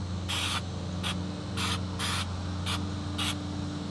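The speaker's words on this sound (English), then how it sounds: "this is just paint stripper, you spray it on there good" Six bursts of hissing aerosol paint stripper sprayed from a can onto a CAT D7R track part, short and uneven, over a steady low hum of background machinery.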